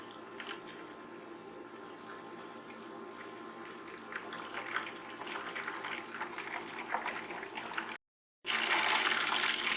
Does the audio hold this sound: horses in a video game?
no